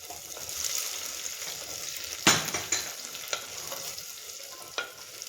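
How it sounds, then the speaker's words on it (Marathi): Green chillies tempering in hot oil with browned onion, a continuous close sizzle broken by a few sharp scrapes and clinks of stirring, no talk. "आता याच्यात आपण मिरच्या फोडणीला टाकणार आहे"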